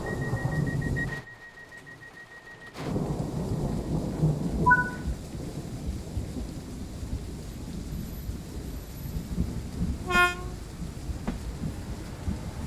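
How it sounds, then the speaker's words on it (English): Rolling thunder rumbles through a rainy storm in the train driving game Train Sim World 3, a steady low roar of rain and distant booms with a brief quiet gap near the start and scattered faint electronic tones. "You gotta hear thunder."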